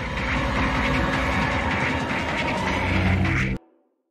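Train running along tracks in the video game Project Playtime, a steady loud rumble with dense rhythmic clickety-clack that stops abruptly near the end.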